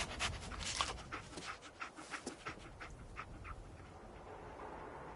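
A dog in the Fallout 4 video game pants in quick, soft, breathy bursts at close range, with a faint whimper, and no talking.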